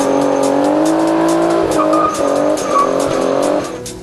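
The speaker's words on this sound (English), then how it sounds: "Let's do a burnout, my son." A car engine revs hard while tires squeal loudly and continuously, close and intense, fading slightly at the end.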